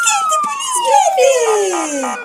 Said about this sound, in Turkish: Polis arabası, polis, polis arabası